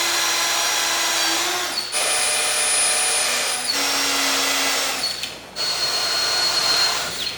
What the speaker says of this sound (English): drill some holes, and we'll get it bolted up.